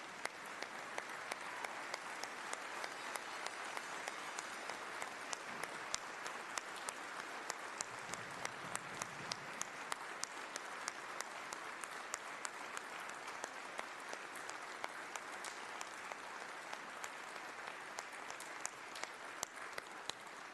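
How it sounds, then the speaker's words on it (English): A legislative chamber in the Tennessee House fills with sustained applause from many hands, a dense, even roar of clapping that carries on for about twenty seconds. "let's give her one more round of applause"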